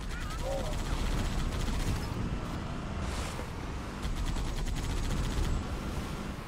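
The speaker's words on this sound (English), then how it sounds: "Activate anti-air gun." Anti-air gun firing in Halo Reach, rapid rattling bursts of fire over a dense rumble of wind and battle noise, fairly loud and sustained.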